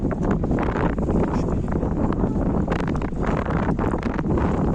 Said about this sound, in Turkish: çok bir rüzgar da var.